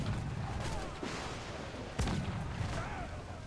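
Booming small-cannon shots in Assassin's Creed IV: Black Flag over a dense, noisy game soundscape, with a sharp blast around midway and a fainter one near the start.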